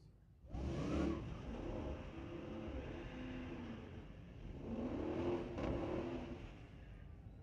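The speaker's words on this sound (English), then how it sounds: "The Jeep over there on the spectator side of the racetrack running away with it." An '08 Jeep SRT8 launches and accelerates at a drag strip at Mission Raceway, its engine roaring at a distance, easing off, then swelling again as it pulls down the track.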